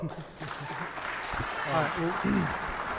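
Crowd applause at the 2025 Syracuse Democratic mayoral primary debate rises after a candidate's statement, a broad clapping wash running beneath a moderator's voice and swelling toward the end.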